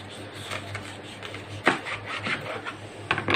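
A kitchen knife slices food into sticks on a board, giving several crisp, separate cutting strokes with faint rubbing between them. Each close, distinct cut sounds apart from the others.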